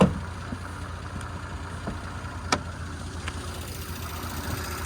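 A 2019 Audi S4 3.0T V6 with a single twin scroll turbo sits idling under the open hood, a steady low hum with faint ticks and a few light knocks nearby.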